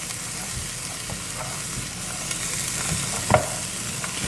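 Butter sizzles and crackles steadily in a hot pan while keto stuffing with bread is started, a continuous close frying hiss with scattered pops and one sharper spatter near the end.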